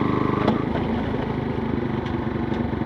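A Suzuki Hayabusa motorcycle engine runs steadily at the start of a ride, a continuous rough mid-pitched drone with a fast pulsing rhythm, close and loud.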